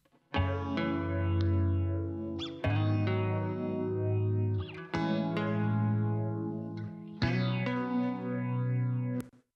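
Two acoustic guitar tracks, panned left and right, play together: four full strummed chords, each ringing out for a couple of seconds before the next loud strum.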